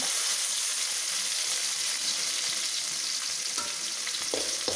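Ginger, garlic and curry leaves frying in hot oil for Kerala-style cut mango pickle make a steady, close, dense sizzle throughout, with a few faint stirring scrapes near the end and no talking.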